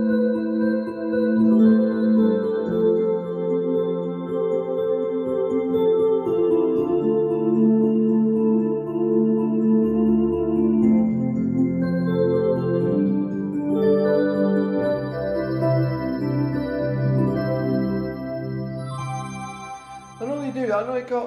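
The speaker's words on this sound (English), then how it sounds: "Get new age sort of synthy sounds like this." Soft, shimmering new-age synth pads from a Kawai CA901 digital piano unfold in slow sustained chords with gentle melodic notes on top, steady and close, ending with a short bright flourish.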